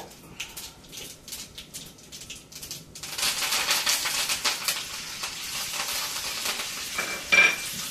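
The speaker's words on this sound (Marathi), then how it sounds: "आता आपण कढीपत्ता टाकूया" Curry leaves dropped into hot oil for Maharashtrian batatyachi bhaji, a sudden loud crackling sizzle that jumps up partway through and holds steady, after quieter scattered ticks and pan taps.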